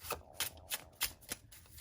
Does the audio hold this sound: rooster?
no